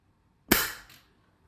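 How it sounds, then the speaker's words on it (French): A single sharp crack from a regulated PCP air rifle, fired at a sheet-metal plate 50 metres away in a garden. The snap is followed by a short metallic ring that dies away within half a second. "je tire dans un endroit de ma chambre, dans mon terrain, sur une plaque en tôle qui est au fond de mon jardin à 50 mètres"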